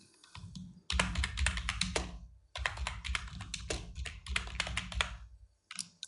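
Rapid typing on a computer keyboard, dense clusters of key clicks in two long bursts separated by a short pause, close and clear with no voices.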